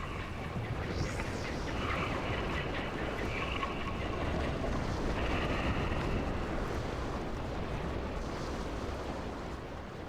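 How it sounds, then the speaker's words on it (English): Steady, loud rushing water of a whirlpool in the video game Epic Mickey churns throughout, a broad roaring wash like a swirling current, with no voices over it. "It's a whirlpool. Stay clear of those."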